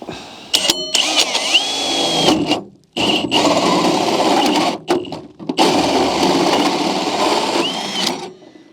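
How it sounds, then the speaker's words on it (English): A power drill whines loudly up close in long bursts while drilling a 4-inch hole in a workshop, pausing briefly between runs, with a steady high-pitched motor drone while cutting. "nothing to do but drill a 4-inch hole here"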